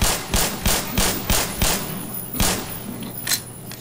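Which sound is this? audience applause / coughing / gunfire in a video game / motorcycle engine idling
gunfire in a video game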